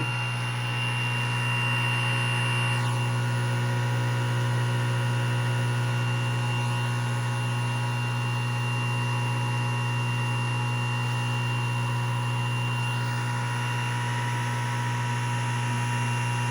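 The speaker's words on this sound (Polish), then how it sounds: "motor ruszył" A steady electric hum with strong tonal lines and a high whine from a synchronous electric motor on a 60 and 30 Hz supply, running continuously and evenly at moderate level with no voices.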